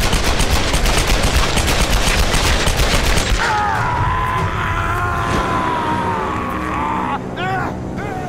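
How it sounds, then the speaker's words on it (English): Dual pistols fire in Tomb Raider, a rapid loud volley of gunshots for about three seconds, followed by a motor-like whine and game ambience with a few sharper hits near the end. "Double pistols, hell yeah."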